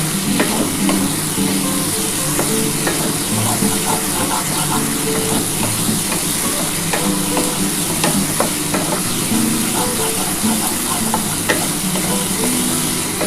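Tilapia fish curry masala with potatoes frying in a pan, a dense, continuous sizzle with scattered crackles and faint stirring scrapes, loud and close throughout.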